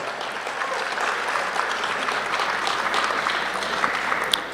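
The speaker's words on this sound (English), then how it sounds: "So let's give them, please, a round of applause" Audience applause at a Mahavir Jayanti celebration in New York, a moderate, continuous patter of many hands clapping that stays even from start to finish.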